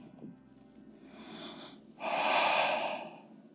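Soft breathing during a yoga forward fold: a quiet inhale followed by a longer, fuller exhale, close and intimate, with no talking.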